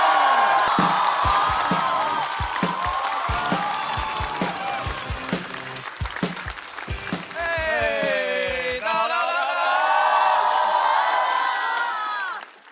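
A stand-up comedy show audience greets the comedy duo Safe Exit with loud applause and cheering: whoops, shouts and a broad crowd roar, with sharp claps early and rising excited voices building toward the end before cutting off.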